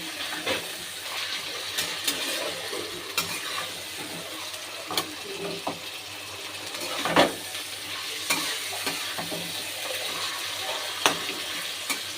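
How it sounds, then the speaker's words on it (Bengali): Marinated mutton sizzling and frying in a pan, a steady crackling hiss with repeated scraping stir strokes and occasional sharper clatters, close and alone without talk. "এবার আমি দিয়ে দেব, দিয়ে একটু ভালো করে ভেজে নেব।"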